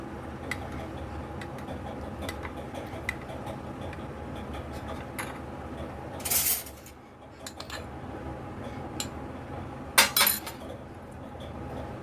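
A spoon mixes two to three spoonfuls of custard powder into half a cup of lukewarm milk, giving light, irregular ticks and clinks against the container, with a couple of brief louder scraping bursts.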